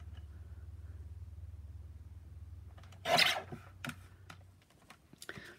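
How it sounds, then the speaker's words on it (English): An electronic craft cutter slices through card, first as a steady low motor hum, then a sharp burst of rasping, scraping noise with several short clicks and scrapes that follow, close and moderately loud. "My cutter makes a weird noise, so I'm sorry about that."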